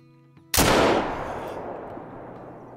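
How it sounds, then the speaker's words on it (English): A single drilling rifle shot in the hunting game Call of the Wild, a sudden loud blast that rolls off into a long, fading echo over about two seconds, with no talking. "for some reason I can't hit it with this drilling rifle"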